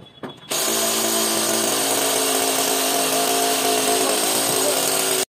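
A plumber's power tool starts up with a short burst, then runs at a loud, continuous whine that holds steady throughout.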